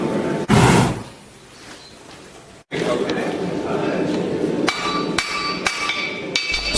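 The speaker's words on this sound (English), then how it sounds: "Sticking with the Farrier's hammer" Heavy farrier's hammer blows strike hot metal on an anvil, one loud hit followed by a string of ringing clanks under steady background noise.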